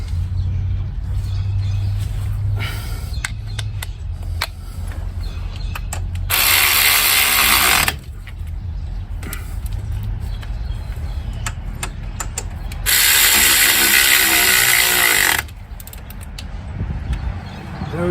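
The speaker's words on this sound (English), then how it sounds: "grab my wrench here and we'll tighten these up" A ratchet wrench tightens bolts on a 2007 Buick Lucerne in the snow, with long bursts of rapid clicking separated by creaks and clanks, close and fairly loud.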